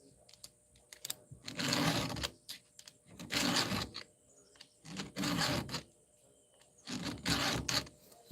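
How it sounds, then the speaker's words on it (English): A metal hand file strokes back and forth on a workpiece held without a vise, the file worn and skating; five rasping strokes come in a slow, even rhythm, close and moderately loud, with quiet gaps between. "That file starts to skate, like it will just start kind of skating across."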